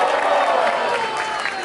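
A live audience at a Brazilian battle-rap event cheering and clapping for a rapper, a steady roar of crowd noise.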